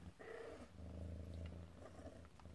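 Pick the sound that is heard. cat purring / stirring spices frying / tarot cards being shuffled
cat purring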